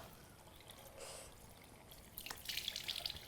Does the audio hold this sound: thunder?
no